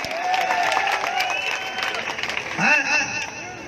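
A crowd applauds and cheers at a farmers' protest rally at the Singhu Border, a continuous wash of clapping mixed with voices and crowd babble that swells briefly near the end, with a speaker's voice over it.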